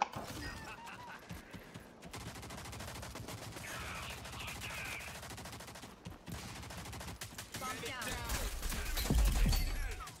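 Video game weapons fire in rapid bursts of shots amid horse whinnies and hoofbeats, with louder blasts building toward the end, while a person talks over the action.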